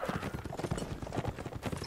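Horse hooves clip-clopping in a video game, a quick uneven run of close hoof knocks repeating throughout, fairly faint and with no clear speech.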